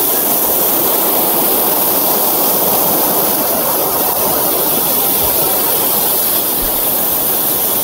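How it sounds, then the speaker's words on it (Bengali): Water rushing and falling down a stream at a Darjeeling sightseeing spot makes a loud, constant roar with no breaks. "এইখান থেকে জল পড়ে চলে যাচ্ছে কিন্তু এই পাশে"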